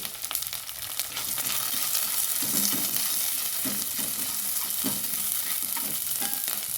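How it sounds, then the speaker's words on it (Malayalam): Curry leaves, chili and garlic sizzle and fry in hot oil for a pickle, a continuous close crackling hiss with occasional stirring scrapes and no talking. "ഞാൻ കരുവേപ്പില ഇട്ടിട്ട് പിന്നെ മുളകും വെളുത്തുള്ളിയും കൂടെ ഇട്ട് കൊടുത്തിട്ടോ"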